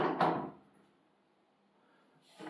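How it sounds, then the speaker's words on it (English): A soft-close cabinet drawer in an apartment bathroom slides shut with a brief muffled thud, then a quiet pause before a second soft bump near the end, close by and with no talk. "Otherwise, the cabinet is really nice. It has soft close and two drawers"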